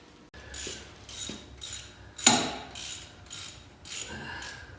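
A ratchet drives the last bolts home on a new car water pump: a series of separate clicking bursts with short gaps between them, close and distinct, with no speech.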